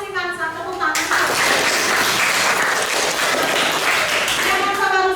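A group of people claps in a classroom discussion lesson, a loud, steady burst of applause lasting several seconds, with speech before and after it.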